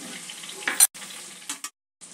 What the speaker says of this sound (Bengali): টমেটোটা এর সঙ্গে যোগ করে 2-1 মিনিট একটু ভেজে নেব।